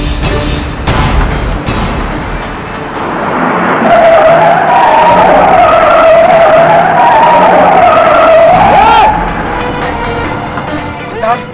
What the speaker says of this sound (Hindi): स्कॉर्पियो ने आयानगर से यूटर्न मार लिया है